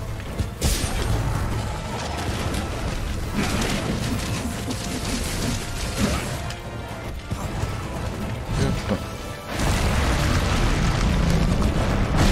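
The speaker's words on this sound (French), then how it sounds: "Explosion!" Explosions and crashing combat effects in the video game Monster Hunter World, a dense, loud roar of booms and mechanical clatter that surges again near the end, with no voices.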